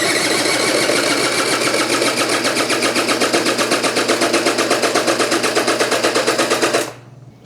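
Cranking a Honda Spree two-stroke scooter engine with wide open throttle during a compression test: a steady, fast rhythmic starter whir with regular pulses, loud and close, stopping abruptly near the end.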